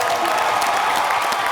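A studio audience claps and cheers at a comedy show taping, a dense, steady wash of applause filling the short stretch with no voices over it.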